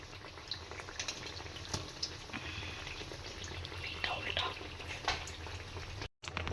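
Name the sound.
eggplant fritters (beguni) frying in oil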